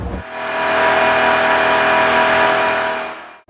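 A 5.7-liter Hemi V8 with an e-torque system, in a 2019 RAM 1500, revs hard on a dynamometer as a loud, steady mid-pitched engine roar that holds for about three seconds and then cuts off abruptly.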